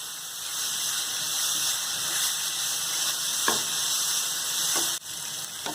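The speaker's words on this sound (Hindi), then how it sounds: "अब हम इसे तकरीबन 1 मिनट तक लो टू मीडियम फ्लेम में कुक करेंगे।" Vegetables cook in a pan over a low to medium flame, giving a steady, close sizzle with faint scraping stirs and soft clicks running throughout.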